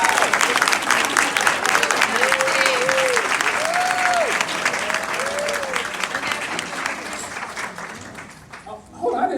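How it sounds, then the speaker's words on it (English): An audience in a hall rises and gives a long, loud round of applause for students, with parents joining in; a few voices call out over the dense clapping, which thins near the end. "can you all give them a round of applause?"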